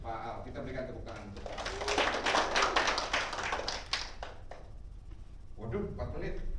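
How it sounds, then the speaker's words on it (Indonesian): A classroom audience gives a burst of scattered hand-clapping that swells and fades over a few seconds, with a voice speaking over it. "Terima kasih Pak Al, kita berikan tepuk tangan."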